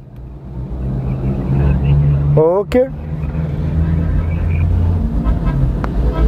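A Honda Civic engine runs near a roadside in Pakistan, a steady low rumble with a brief rising whine partway through, loud and close beneath a voice.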